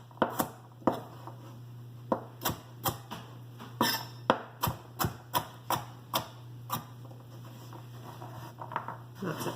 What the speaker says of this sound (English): We're just gonna give them a rough chop.